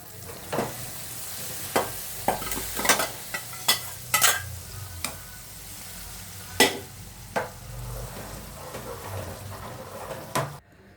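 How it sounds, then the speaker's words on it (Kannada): A fried tempering is poured into bisi bele bath, and stirring, scraping and sharp clinks of utensils come in irregular bursts over a low sizzle, close up with no talk. "ಇದು ಒಗ್ಗರಣೆನ ಈಗ ಬಿಸಿಬೇಳೆ ಬಾತ್ಗೆ ಹಾಕಿಬಿಡೋಣ"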